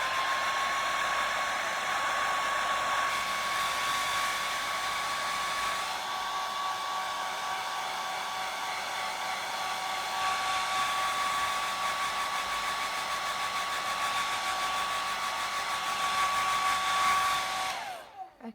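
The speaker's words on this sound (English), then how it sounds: "you're going to hear a very loud noise now of me using the hairdryer" A hairdryer blows steadily to dry watercolour paint on a landscape painting, a loud continuous whining whir held for nearly twenty seconds before switching off.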